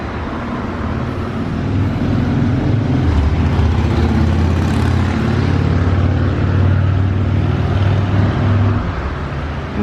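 A lowered Nissan S14 drives past nearby with a steady engine drone and road rumble that holds for several seconds, with no talking.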